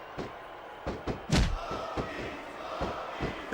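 A capacity crowd in a wrestling arena in the Smackdown vs Raw 2006 video game roars steadily. Scattered thuds and slams from the ring cut through, with one heavy impact near the middle.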